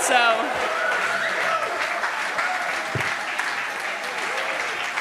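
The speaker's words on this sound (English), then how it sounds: "a big round of applause to Alvaro" Conference audience at the Democracy Reloading event applauding an organiser, a dense sustained round of clapping over background voices and a faint tonal sound at the start.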